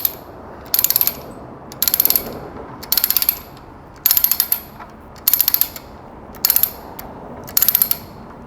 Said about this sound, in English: there is a little clip on this ratchet strap that you need to push in, and then you ratchet in the opposite direction to loosen it